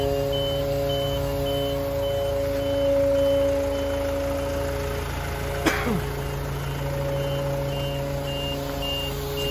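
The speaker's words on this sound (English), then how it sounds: "you can probably hear the pump working on there as well" A hydraulic pump levels a truck-mounted 2012 Iveco Daily 3.0TD 55S17W 4x4 24 m MEWP. It makes a steady mechanical hum over the idling diesel engine, with a regular reversing-style beep and one brief sharp click midway.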